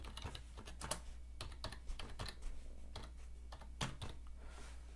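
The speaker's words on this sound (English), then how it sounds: "I'm going to go ahead and type in stay positive." Text being entered on a computer keyboard for a graphic design project, heard as quick, uneven bursts of crisp key clicks, close and fairly quiet, going on throughout over a low steady hum.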